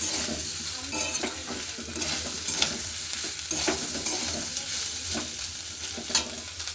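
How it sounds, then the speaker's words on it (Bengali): Soybean and potato curry with chana dal frying in a pan makes a continuous, close sizzle, with repeated scraping and light clinks from the stirring spoon throughout and no voices. "এটা একটু আমি ভাজা ভাজা করে নিচ্ছি"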